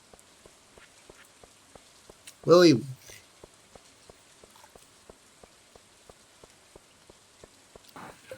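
Rain falls in the video game Stardew Valley as a faint, even patter of regular ticking drops that runs steadily throughout, with someone briefly speaking over it.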